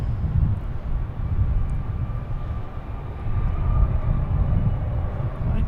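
Airliner arriving at Boston Logan Airport, a steady, loud low-frequency jet roar that swells slightly midway and holds throughout, with no voices over it.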